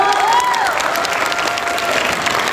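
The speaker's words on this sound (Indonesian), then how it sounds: "Wah, tepuk tangan dulu dong." A crowd at an expo breaks into a short burst of steady applause, fairly loud and close, with a faint voice briefly heard over the clapping.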